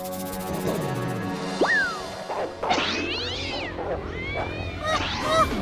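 Several high, wavering kitten meows rise and fall over a few seconds, mixed with voices talking and household background noise.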